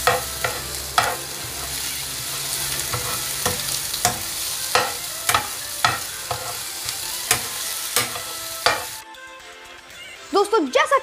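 Steady sizzling of ginger-garlic paste browning in a hot pan, punctuated by regular scraping clicks of a spoon stirring, then a brief quiet moment.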